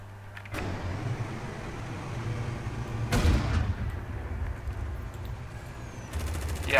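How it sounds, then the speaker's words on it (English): Heavy armored cars in the video game Silica fire in two loud, sharp blasts a few seconds apart, with a steady low vehicle rumble filling the gaps between shots. "It takes way too long for the armored cars to reload and fire."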